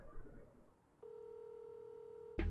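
A giant telephone in the Fortnite video game is being dialed: a steady electronic tone holds for over a second after a quieter start, then ends in a sudden louder burst.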